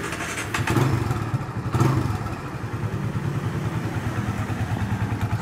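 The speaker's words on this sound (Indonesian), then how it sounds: "Kita nyalakan, dengarkan suara mesinnya, teman-teman." A Kawasaki W175 TR motorcycle engine chugs steadily at idle nearby, a fast even putter with a couple of louder revs or clunks early on.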